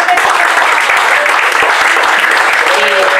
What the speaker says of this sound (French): je vous invite encore à l'applaudir